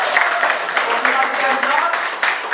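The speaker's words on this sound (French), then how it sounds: "Alors, des applaudissements pour Hamza." Applause for a contestant named Hamza at a Tunisian singing talent show makes a dense, continuous wash of clapping, with a voice speaking over it.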